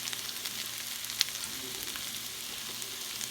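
Cabbage cooking down in a skillet gives a steady, soft sizzle with a faint crackle and a single sharp tick midway, close by and with no talking.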